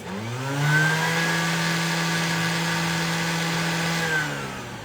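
A Thermomix TM7 motor runs at speed 10 with an empty bowl, a loud steady whirring whine that ramps up at the start, holds evenly, then eases slightly near the end.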